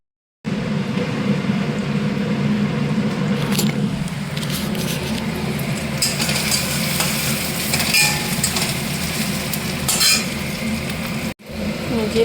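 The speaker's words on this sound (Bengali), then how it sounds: "যে পেঁয়াজ ভাজছি" Onions fry in a pan with a continuous, loud sizzle and occasional utensil scrapes and stirring clatter close by, ending with a brief pause.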